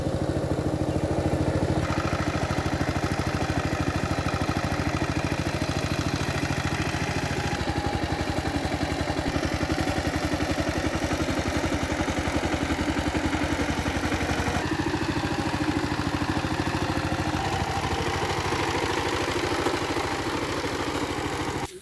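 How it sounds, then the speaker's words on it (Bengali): A power tiller runs in a flooded aman rice field, its engine chugging in a steady, unbroken rhythm for over twenty seconds, close and constant with a clattering mechanical edge and no speech. "এখন চার্জ দেওয়া হচ্ছে পাওয়ার টিলার দিয়ে"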